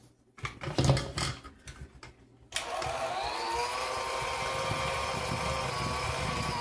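Electric hand mixer beating salted-butter snowball pecan cookie dough, starting after a few soft clatters and then running as a steady, close whirring drone with a constant pitch to the end.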